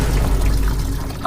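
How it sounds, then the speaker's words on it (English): Coolant pours steadily from the radiator drain plug of a car under head gasket repair, a continuous loud liquid gush and trickle with no pauses throughout. "I found the drain plug on my radiator and began draining my coolant"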